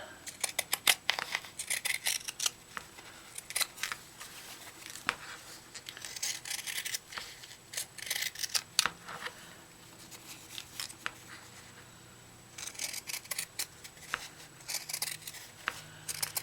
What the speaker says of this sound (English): And then you take your pinking scissors